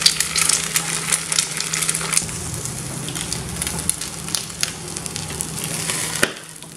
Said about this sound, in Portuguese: Tá aqui, ó, a frigideira já aquecida, o pãozinho francês já cortado.